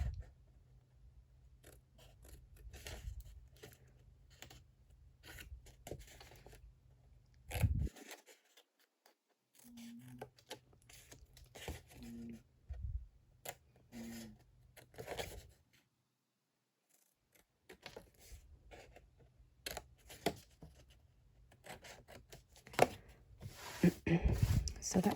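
Scissors snip small square corners out of paper for an envelope window, quiet close clips and rustling paper in bursts separated by brief silent pauses.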